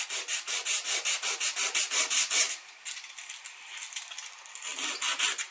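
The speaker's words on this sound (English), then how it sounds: "You'll have to flip your sandpaper a number of times because the stainless will really take the grit out of the paper." Stainless steel is hand-sanded with sandpaper in quick, even back-and-forth strokes, a rhythmic scratchy rasp that pauses briefly and then resumes more softly.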